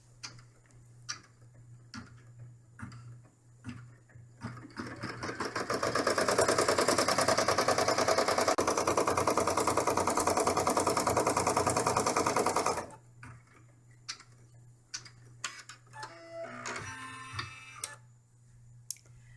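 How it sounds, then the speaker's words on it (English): A machine embroidery unit stitches fabric held in the hoop for an in-the-hoop camper bag. Scattered quiet clicks lead into about seven seconds of loud, steady, rapid stitching whir, then stop and give way to sparse ticks and rattling. "it goes all the way to the bottom here, and stitch."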